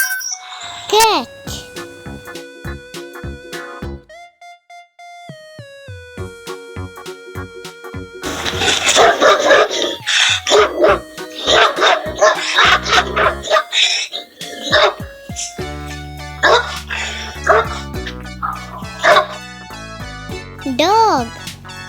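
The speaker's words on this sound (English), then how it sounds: "Dog." A dog barks in a dense run of loud, rough bursts over bouncy children's game music, with quieter musical passages before and after.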